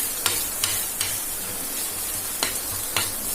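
Egg bhurji made with onion, green chilli, turmeric, chilli powder and salt fries on a tava, a soft steady sizzle punctuated by several sharp spatula taps against the griddle.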